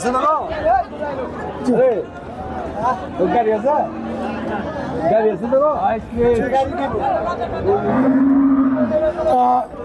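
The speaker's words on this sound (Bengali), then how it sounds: "এখানে আরও গরু বাধা আছে ভালো গরু বাঁধা আছে" Cattle low repeatedly at a busy cattle market selling dairy cows, the moos rising over constant crowd chatter and nearby talking, several animals calling near and farther away.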